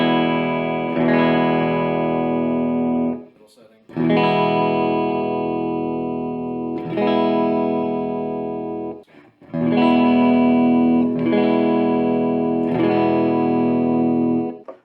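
A bass guitar plays sustained, slightly gritty notes through a combo amp's 12-inch speaker, in phrases separated by short pauses, with no talking.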